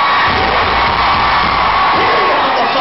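A concert crowd at a show in Manchester Academy roars and cheers continuously, a loud, dense wall of shouting and whoops from a large audience filling the whole stretch.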